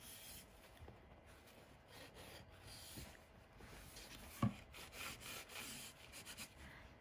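Soft clear wax rubbed by hand along the edge of a wooden street sign finished in milk paint, a quiet continuous scuffing with one sharper tap midway, close and alone without talk.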